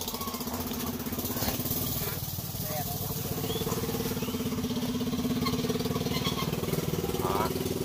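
A large crawler tractor's engine runs steadily at close range, a loud rough rumble with rhythmic knocking, worn and loose-sounding, continuous throughout.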